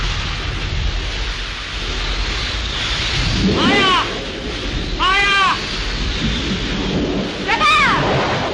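A heavy thunderstorm in a 1937 Hindi film: steady loud rain hisses throughout with low thunder rumbling beneath, and a few short tonal voice-like calls rise above the downpour.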